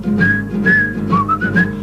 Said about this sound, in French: Une armée qui marche en sifflotant